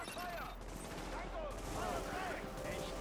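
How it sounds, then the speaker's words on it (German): Bursts of muffled gunfire in the video game The Division crackle at a distance over a dense, steady background din. "Also ich höre Schüsse."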